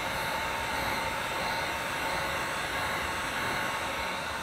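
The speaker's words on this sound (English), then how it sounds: "So now I'm gonna hit it with this heat gun." A heat gun blows hot air over poured acrylic paint in a flip cup pour, giving a steady, close, even rushing hiss that holds unbroken throughout with no talk.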